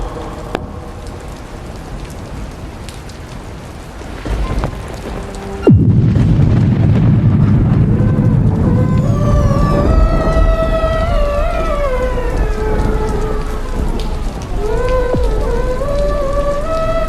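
Heavy rain pours in a scene from an Assamese web film, a dense steady hiss. A deep boom cuts in partway, and swelling music with sliding tones then plays over the continuing downpour.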